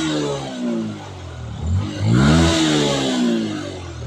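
A Yamaha R15 V1 motorcycle engine with a misfiring fault revs up and down close by, loud and continuous, with a rising throttle blip near the middle before settling back to idle.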